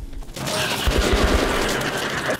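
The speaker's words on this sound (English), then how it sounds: "Why is he shooting his gun?" Gunfire in the video game Metro Last Light Redux, a quick rattling burst of several rapid shots, close and punchy, over a low background rumble.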